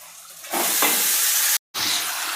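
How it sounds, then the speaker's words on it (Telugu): Chicken pieces dropped into hot oil with ginger and turmeric gravy for a home-cooked chicken curry, setting off a sudden loud, steady sizzle that fills the pan, broken by one brief cut, then continuing. "చికెన్ వేసుకుంటాను."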